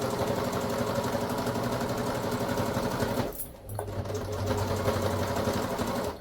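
A sewing machine stitches elastic onto a fitted sheet, a fast steady mechanical whir that pauses briefly midway and then resumes, close and loud.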